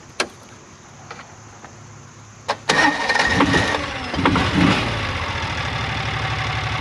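Kawasaki Mule utility vehicle engine starting after a carburetor rebuild: a couple of brief clicks, then the engine cranks and catches, settling into a steady, loud, slightly uneven idle.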